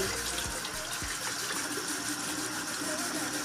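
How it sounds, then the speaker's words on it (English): A bathroom tap runs steadily into a sink, a constant close rushing hiss of water with a few low thumps near the start, with no talking over it. "Hopefully you guys can still hear me while the water is still running."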